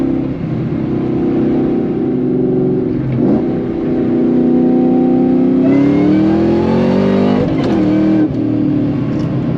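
A 2003 Ford SVT Cobra with a T56 Magnum manual transmission pulls hard, its engine note climbing through the revs, dropping briefly at each of two quick shifts, then rising again. The sound is loud and close, with no talking.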